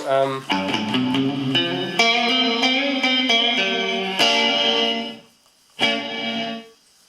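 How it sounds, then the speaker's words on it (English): An electric guitar plays through a cheap Digiverb reverb pedal, with ringing sustained notes and chords that wash together, a short near-silent gap, then a final struck chord that decays. "I use this cheap but oh so marvelous reverb pedal, the Digiverb"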